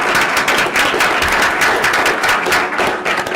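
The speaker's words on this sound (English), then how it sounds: "Get an applause before we even begin." An audience at a school board meeting applauds with sustained, even clapping from many hands that fills the room, at moderate loudness and without talk.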